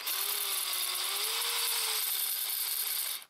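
A power drill whirs steadily while a pipe cutter's crowning attachment scrapes and grinds against a spinning metal gun barrel, a continuous close rasp that cuts off abruptly at the end.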